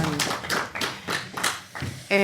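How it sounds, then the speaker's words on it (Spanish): Clapping at a labour-reform forum in Zaragoza, heard as a handful of slow, separated claps rather than a full round, with a voice breaking in at the end. "Buen aplauso y todo."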